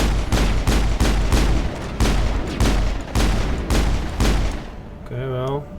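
Rapid bursts of automatic gunfire from the Mass Effect video game, about eight loud repeated volleys in steady rhythm, ending in a short electronic warbling tone.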